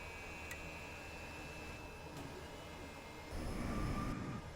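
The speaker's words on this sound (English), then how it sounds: "It's a very noisy aircraft though" Steady engine drone from a De Havilland DHC-6 Twin Otter in Flight Simulator, a constant hum with brief clicks, rising in loudness toward the end; nobody speaks.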